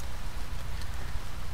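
Steady rain in the video game To The Moon, falling over a graveside scene as a dense, even hiss that holds without break throughout.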